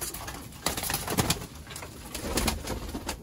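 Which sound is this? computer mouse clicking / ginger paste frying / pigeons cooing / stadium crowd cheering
pigeons cooing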